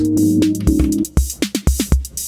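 A clean, dry Roland TR-606 drum machine beat without distortion pedal: a few sustained tones give way to punchy, evenly spaced kicks and snappy hits, undistorted and up close.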